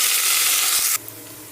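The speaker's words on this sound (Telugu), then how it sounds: "సన్నగా కట్ చేసుకున్న పుదీనాని కరివేపాకు వేస్తున్నాను" Finely chopped mint and curry leaves are frying in hot oil over already-browned onions. A loud, steady broadband sizzle runs for about a second and then drops abruptly to a quieter hiss.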